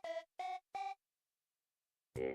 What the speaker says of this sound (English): the heck was that sound? It sounded like a ringtone.